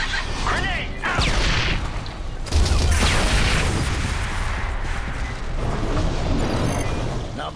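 A grenade blast in the sci-fi shooter Section 8: Prejudice, a loud low boom bursting out midway through a dense battlefield din of gunfire and rumble, with a voice speaking over the chaos.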